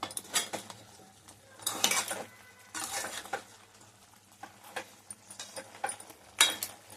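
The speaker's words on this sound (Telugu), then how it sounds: "ఉప్పు వేస్తాం. కలుపుకోవాలి బాగా." A spoon stirs salted country chicken curry in a metal pot, giving repeated scraping clinks and clatters in irregular bursts, close and fairly quiet with soft pauses between strokes.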